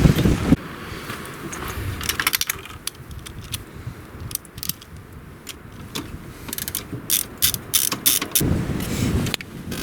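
A ratchet wrench tightens a car engine's belt tension in bursts of rapid, close clicking, separated by pauses and clanks of tools around the engine bay.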